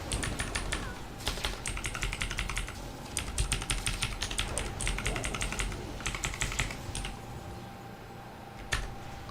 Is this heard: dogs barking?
no